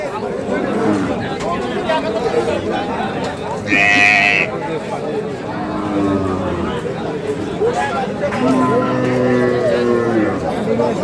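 Sahiwal, Sindhi and local-breed dairy cows with calves at a busy village cattle market, one loud moo standing out midway while crowd chatter and talk carry on throughout.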